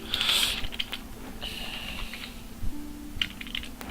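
Rapid bursts of clicking keystrokes on a computer keyboard while setting up a new Dark Souls character, clustered at the start and again near the end, close and fairly loud over a low steady hum.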